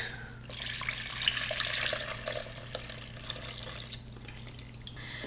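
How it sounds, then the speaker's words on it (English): Four cups of cold milk pour steadily into a mixing bowl of boxed cake mix and vanilla, a continuous soft liquid splash over a low background hum. "I'm going to add 4 cups of cold milk"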